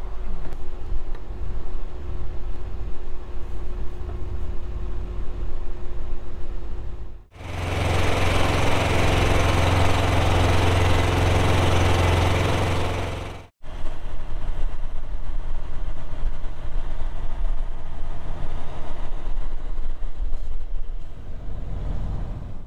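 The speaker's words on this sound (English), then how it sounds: "Gotta keep the pump full of gas." A sprayer pump engine runs with a loud, steady drone. A much louder, broader burst of motor noise starts abruptly, holds for about six seconds, then cuts off, and the steady engine sound resumes.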